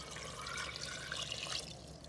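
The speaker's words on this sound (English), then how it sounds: "I'm gonna go ahead and add a couple more cups of water to this before we put the lid on and cook." Water is poured into a pressure cooker holding cabbage soup, making a steady, soft splashing pour that runs for a couple of seconds.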